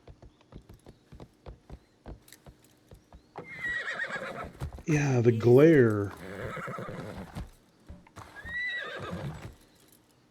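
A horse in the video game Assassin's Creed Shadows clip-clops at a steady walking rhythm, then gives a loud, drawn-out whinny and a shorter neigh a moment later. A player's voice is briefly heard over the hooves.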